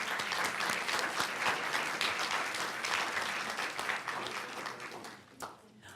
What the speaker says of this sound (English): Let's give Martha and all of our parent volunteers a big round of applause.